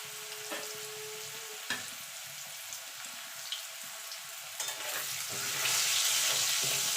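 Potato pieces fry in hot oil in a home kitchen, a steady crackling sizzle with a few sharp clinks from stirring, growing louder and brighter toward the end.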